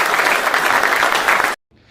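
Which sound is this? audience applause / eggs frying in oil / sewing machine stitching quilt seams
audience applause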